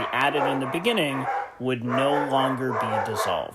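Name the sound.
dogs barking in the background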